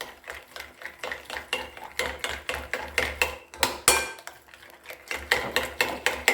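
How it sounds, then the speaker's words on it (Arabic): Garlic tahini sauce for Syrian ful being stirred briskly in a bowl, a steady run of quick, close clinking and scraping strokes in a repeating rhythm, with no talking. "بنعملنا تحريكة بسيطة، بندمج الصوص مع بعضه كتير منيح"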